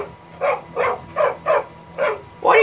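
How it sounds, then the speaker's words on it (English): A dog in Skyrim barks repeatedly, six loud close yaps at a quick, fairly even rhythm over a quiet background. "That dog barked really loud."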